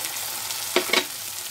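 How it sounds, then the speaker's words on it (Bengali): Onion, tomato and garlic fry in a pan with a soft, steady sizzle. Two short stirring scrapes break in near the middle, and no one talks. "এবার পেঁয়াজটা ভাজা হয়ে গেছে, টমেটো, পেঁয়াজ, রসুন সব ভাজা ভাজা হয়ে গেছে।"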